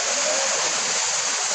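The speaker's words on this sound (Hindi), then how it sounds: "झरणा पूरा देखिए" A waterfall tumbles down a hillside in Keonjhar, a steady broadband roar of falling water that stays loud and continuous throughout without pause.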